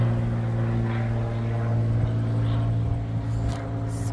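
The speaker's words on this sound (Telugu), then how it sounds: "అండ్ ఆఫ్టర్ దాట్ ఇక్కడ మనకి ఫ్లైట్ కనబడుతుంది." An airplane passes over Hobart, Tasmania, with a steady, fairly loud engine drone and low humming tones that hold through the whole stretch, no voices on top.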